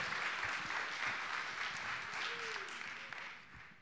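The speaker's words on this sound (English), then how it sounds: "a big round of applause" Conference audience applauding a tech founder walking on stage, a steady dense wash of clapping throughout, fairly distant and even.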